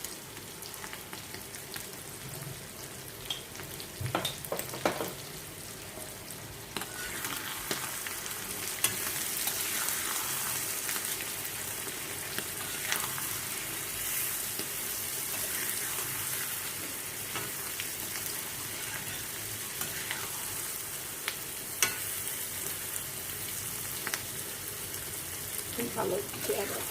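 Pointed gourd (potol) frying in oil in a pan, giving a steady close sizzle with occasional stirring scrapes that continues throughout, with someone talking quietly over it.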